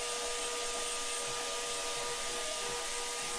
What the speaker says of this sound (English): It buzzes right off pretty good with a good grinder.